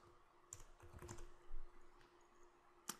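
Someone types on a computer keyboard in short, quiet bursts of clicking keys, with a sharper tap near the end and a faint background hum, no speech.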